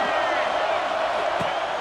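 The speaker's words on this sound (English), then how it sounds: "This crowd trying to make life miserable for this offense." A stadium crowd roars in NCAA Football 26, a dense, steady wall of cheering and noise throughout, with a commentator's voice faintly mixed in.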